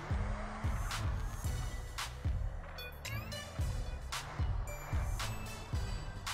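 Car crash in the video game GTA San Andreas: a run of repeated heavy thuds and metallic impacts with engine noise and brief screeching, loud and continuous throughout.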